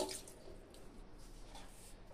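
Raw chicken rinsed in a bowl of hot water, a steady close splashing and trickling wash with small drips, continuous and fairly soft throughout.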